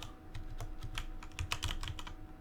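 Keys clicking on a computer keyboard in an irregular quick run of taps, close and clear, while a name is typed into RStudio, with no talking.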